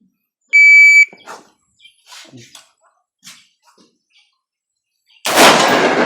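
A shot timer gives one sharp electronic start beep, followed by quiet rustling and then a loud burst of rifle fire from an R4 rifle at steel plates on an outdoor range, with the last shot ringing into the end.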